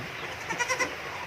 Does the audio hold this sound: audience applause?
no